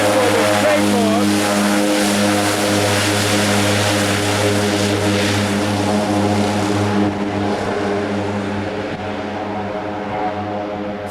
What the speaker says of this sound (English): Here's another example of a takeoff.